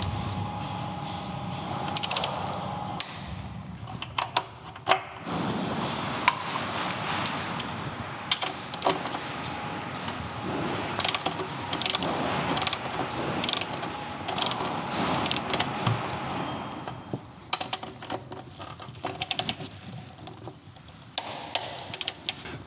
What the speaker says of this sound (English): For the final tightening I will take a torque wrench.